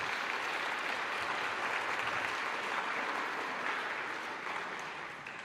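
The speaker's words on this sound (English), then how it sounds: "So a round of applause for those high-achieving kids." A concert audience at a sacred works performance applauds young musicians, a dense, even roar of many clapping hands held steady throughout before tapering slightly at the end.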